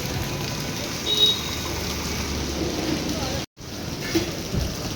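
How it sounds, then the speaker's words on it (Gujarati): Heavy rain falls in a dense, steady hiss, with a brief dropout partway through before the downpour resumes. "હા વરસાદ વધી ગયો"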